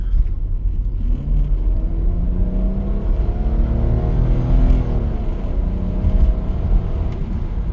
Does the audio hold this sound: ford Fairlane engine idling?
yes